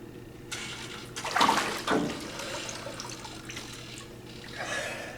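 Air bubbles blown out underwater by a person during hydrostatic weighing in a tank, a few gurgling bursts of water and bubbling over a low steady hum, close and moderate in loudness.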